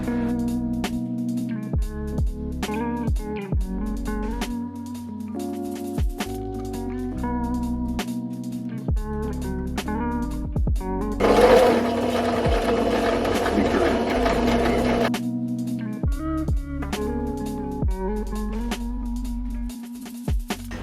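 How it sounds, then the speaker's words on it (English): A sewing machine stitching patchwork jeans in repeated runs, a close rhythmic whirring hum that speeds up and slows, with stops between seams and one louder, harsher stretch in the middle. "Now I'm just going to go ahead and sew these together"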